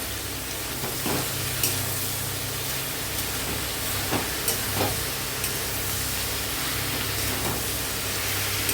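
Snake gourd sizzles steadily as it fries in a pan, with occasional soft scrapes and knocks from stirring over the continuous hiss; no voices.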